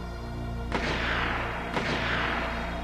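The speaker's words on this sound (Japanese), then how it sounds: "銃声です。" Two gunshots crack out in the video game Attack on Titan 2, each a sharp, distant-sounding report with a long echoing tail, spaced about a second apart over a low steady background.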